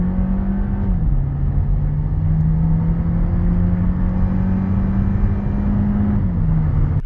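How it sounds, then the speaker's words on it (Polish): A Skoda Octavia accelerates hard from a standstill, its engine droning loud and close with a steadily climbing tone. The pitch dips briefly at two gear changes, and the sound continues unbroken with no voices. "W tym silniku też dość mocno słychać turbinę, którą też słychać w kabinie, jak mocno przyspieszamy."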